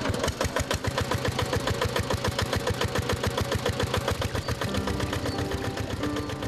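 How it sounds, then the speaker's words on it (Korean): Gasoline engine of a portable power water pump on a Philippine sugarcane field, drawing irrigation water from a canal, running loud and close with a fast, steady chugging throb and no voices. "저 멀리 수로에 연결된 파이프를 끌어다가 펌프에 연결해 엔진을 돌린다."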